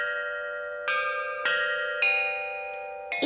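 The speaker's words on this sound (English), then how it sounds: "A musician would strike the bells to play a tune." Ancient Chinese bronze bells are struck one after another to play a tune, with about five clear, ringing strikes whose tones overlap and sustain without any voices.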